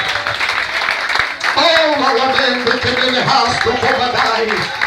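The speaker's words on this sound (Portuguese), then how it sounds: "Aplauda o Senhor Jesus Cristo." A church congregation claps and cheers in a dense, loud burst while voices call out and sing over the applause throughout.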